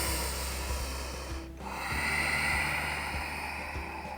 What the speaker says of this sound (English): Take your 5 deep, equal breaths.